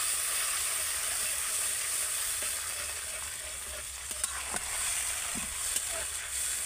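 Tomato paste sizzling in a hot pan with ginger paste as it is stirred, a steady loud hiss with occasional clicks and scrapes of the spoon, no voice over it.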